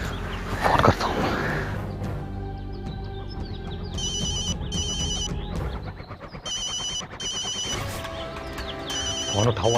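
A telephone ringtone chirps in repeated electronic bursts, with loud clattering noise and other sounds around it.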